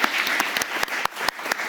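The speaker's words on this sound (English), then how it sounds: "Big round of applause to our panelists." Audience applause for the panelists at the close of a panel discussion on societal conflict resilience, a steady dense clapping wash with sharper individual claps standing out, fairly loud and without talk.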